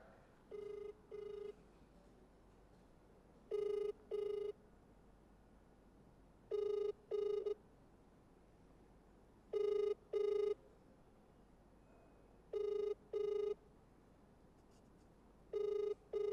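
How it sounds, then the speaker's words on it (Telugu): An outgoing phone call rings on the line, sounding as paired rings that repeat about every three seconds. The rings are quiet and clear over a low background hiss. "ప్రభుకుమార్కి కాల్ చేస్తున్నాము, మరి రెస్పాండ్ అవుతాడా లేదా?"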